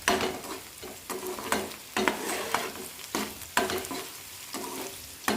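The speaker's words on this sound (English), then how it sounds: "chopped onion, chopped green chili. Then add curry leaves, roast well." Chopped onion, green chili and curry leaves roast in a hot pan, a steady sizzle broken by repeated stirring scrapes roughly every half second, close and alone with no talk.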